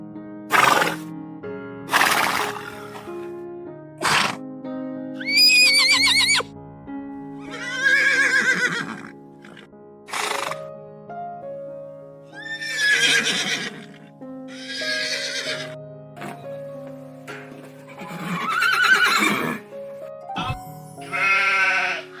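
A farm horse neighing loudly and repeatedly, each whinny a long shaky call rising and falling, with quiet gaps between calls over a soft musical backdrop.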